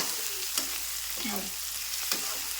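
Green chillies fry in oil with a constant soft sizzle, while a few sharp scrapes and taps of stirring in the pan break through at intervals.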